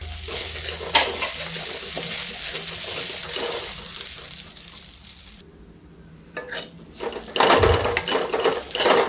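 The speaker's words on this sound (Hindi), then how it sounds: "देखिए अब इस चावल को हम थोड़ी देर तक इसका भून लेते हैं। घी में आप भूनोगे तो स्वाद बड़ा अच्छा आ जाएगा।" Samak rice roasting in ghee while being stirred, a steady close sizzle with scraping strokes that drops away briefly mid-way and then returns louder.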